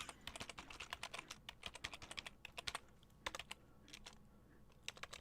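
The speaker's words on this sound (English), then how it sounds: "I'm typing stuff" Rapid, uneven typing on a computer keyboard, clicking keys in quick bursts with brief pauses, close and fairly quiet, with no talking.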